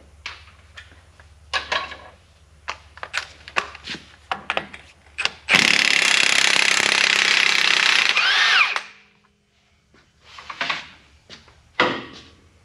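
A 34 mm axle nut comes off a Ram 2500 front wheel during a wheel bearing job: a few clanks and scrapes lead into a loud, sustained rattling burst of about three seconds from an impact tool, then more metallic handling.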